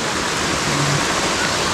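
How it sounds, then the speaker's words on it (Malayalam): A jungle river rushes steadily nearby, a loud, even broadband wash of flowing water with no voices. "ഇത് എവിടുന്നാ വരുന്നത് ഈ വെള്ളം ഇത് എവിടുന്നാ ഈ വെള്ളം വരുന്നത്"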